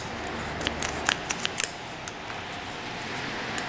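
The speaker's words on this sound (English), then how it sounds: "it would help if I had a good pair of scissors." Sharp snipping of scissors trimming material on a countertop, a quick irregular series of crisp cuts clustered early, then a few sparse snips before quiet.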